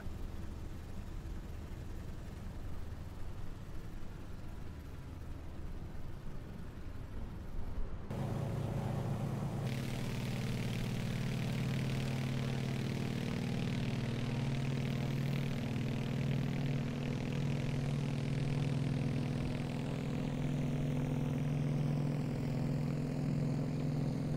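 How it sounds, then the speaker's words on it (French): Aircraft engines on a cargo plane leaving runway 27 at John F. Kennedy Memorial airfield rise abruptly from a quiet background into a loud, steady roar that holds for the rest of the stretch, with no voices. "Les moteurs rugissent et nous nous arrachons du sol avec le poids de notre cargaison se faisant sentir sur nos ailes."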